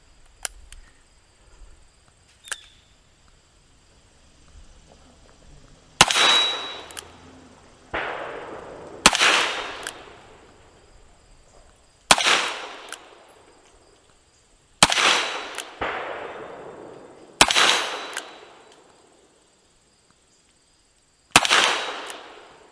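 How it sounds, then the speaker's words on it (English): A Ruger GP100 revolver with a 6-inch barrel fires mild .38 Special 125-grain lead bullets, six sharp reports at irregular intervals with short ringing tails. Softer clicks and handling sounds come before the shots. "We'll start with the 38 special, 125 grain lead bullet, backed by a real light charge of clays."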